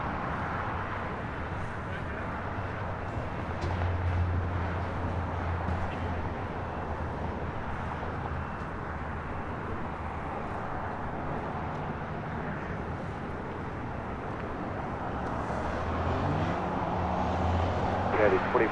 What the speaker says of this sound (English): Next takeoff here on the south side, United Airlines flight 1532 heading to Denver